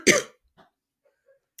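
A single short, sharp cough from a woman who has a lingering cough, loud and close, followed by near silence with only a couple of faint small noises.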